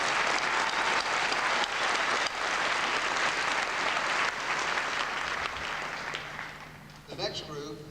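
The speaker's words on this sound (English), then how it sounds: "Let's give a round of applause for" Loud, sustained clapping from a crowd at a Southeastern Oklahoma State University fall commencement ceremony, steady for several seconds, then tapering off as a voice begins at the end.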